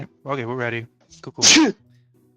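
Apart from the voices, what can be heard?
sneeze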